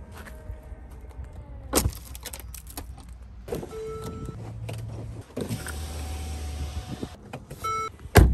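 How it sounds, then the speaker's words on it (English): A Mercedes GLA's power tailgate closes after a foot kick under the rear bumper: motor whirs and clicks, a few short electronic beeps, then a solid latch thud at the end, all close and fairly quiet with no talk. "And you can put your foot under there again, and then it will close it."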